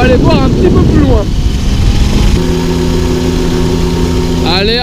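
Mobylette moped engine runs steadily with its throttle jammed open, a loud continuous drone with a pitch that shifts midway and again at the end, heard outdoors with no voices over it.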